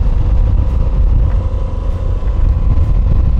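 Moto Guzzi adventure motorcycle pulling away from an ice cream shop in second gear, a close, continuous rumbling engine note with wind noise, loud and steady throughout with slight swells.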